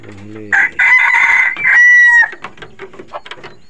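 A captive labuyo wild chicken rooster crowing loudly and close, a long strident call followed by softer clucks and scattered chirps from nearby fowl.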